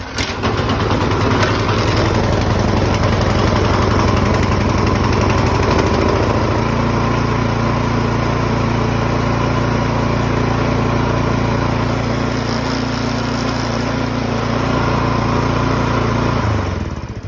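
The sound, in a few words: Troy-Bilt snowblower engine starting and running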